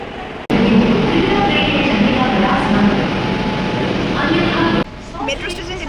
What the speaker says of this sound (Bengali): Salt Lake sector metro station.